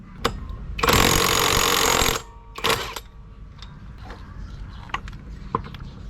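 An impact wrench running in reverse to remove the torque drive nut on a Yamaha Mio i 125 scooter: a short rattle, then a loud sustained hammering burst of about a second, a second brief burst, and quieter clanks in a workshop.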